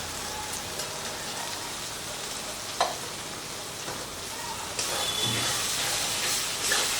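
Spice masala with sugar frying and being stirred in a pan, a steady hiss like rain with a few soft scrapes and a brief clink near three seconds, the sizzle brightening after about five seconds.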